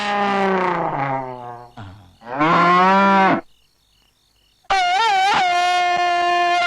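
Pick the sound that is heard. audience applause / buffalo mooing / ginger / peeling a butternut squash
buffalo mooing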